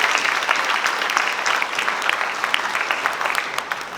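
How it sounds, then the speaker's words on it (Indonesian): An audience at a university law faculty's 100th anniversary celebration claps together, a dense, even burst of many hands that stays loud and steady throughout, with no voices over it. "Kita tepuk tangan dulu untuk FHUI yang kita cintai."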